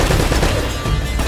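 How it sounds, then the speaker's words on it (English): Rapid, continuous machine gun fire from an enemy MG emplacement in Uncharted: Drake's Fortune crackles loud and dense throughout a short burst, with no talk over it. "Now, what to do about that freaking MG up there?"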